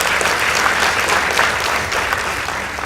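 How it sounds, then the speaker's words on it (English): Loud, dense audience applause at a school debate contest as a high school team's score is announced, an even wash of clapping throughout without letup. "Please give them a round of applause."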